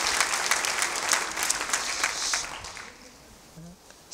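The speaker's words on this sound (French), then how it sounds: "Est-ce qu'on peut applaudir l'œuvre de Dieu ensemble?" A church congregation applauds together during a service, a dense, steady wash of clapping for about three seconds that then thins and fades into near quiet.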